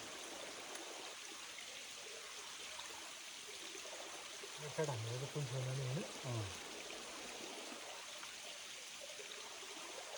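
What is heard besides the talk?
stream flowing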